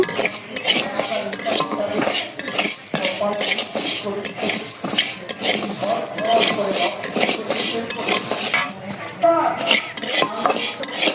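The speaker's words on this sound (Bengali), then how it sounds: "এখন রান্না করি যে ডালটা ভেজে নিই" Dal is fried and stirred in a pan at home with a metal spoon, giving continuous loud scraping and clinking against the pan over a faint sizzle.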